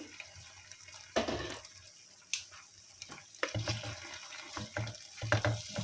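Water poured into a pan of chicken as it cooks, giving intermittent bursts of splashing and sizzling at close range, with no talking.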